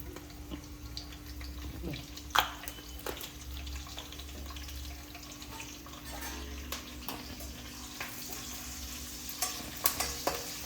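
Ingredients for veg fried rice drop into hot oil in a kadai, giving a quiet, steady frying hiss with intermittent stirring scrapes and a few sharper clinks, plus a low background hum.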